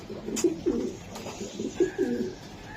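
A big racing pigeon coos close by in a loft, giving a few rounded, throaty rolls that pulse in a slow, uneven rhythm over a steady low room hum.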